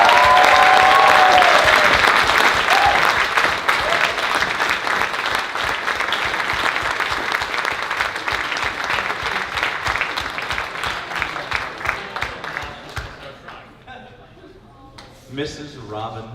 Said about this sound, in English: So how about a big round of applause for me?